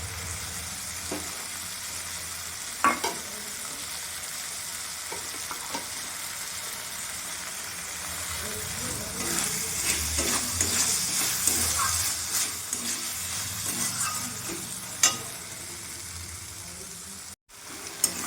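Red lentils, potatoes and spices stir-fried together in a pan for a Bengali kalmi shak dalna, with a steady sizzle and occasional scraping knocks of a spatula, fairly close and without talk.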